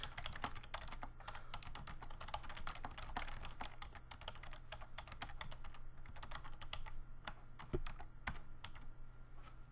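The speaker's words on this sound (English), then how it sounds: "I'll show you some typing." Fast, continuous typing rattles across a Koribo Leira multimedia keyboard, with dense, even key clicks picked up faintly from a distance across a room over a low steady hum.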